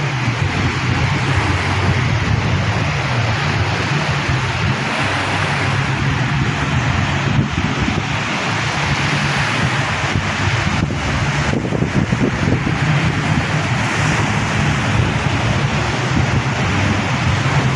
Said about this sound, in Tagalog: Ngayon, oh, lumaki na naman yung mga alon.